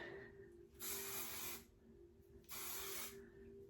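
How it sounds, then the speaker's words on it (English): Two quick bursts of aerosol hair spray applied to wavy, naturally curly hair, each a loud hiss lasting under a second, separated by a short pause, close to the microphone with no talking. "I'm just gonna give it a quick, oh my gosh, a quick spray."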